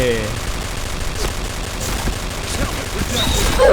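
K-3 rifle tap-fired in the shooter game Point Blank: short clicked bursts of shots over a steady game-noise bed, moderately loud and fairly close, without clear gaps between volleys.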